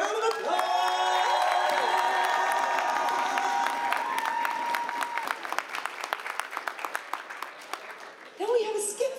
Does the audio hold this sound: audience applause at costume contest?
yes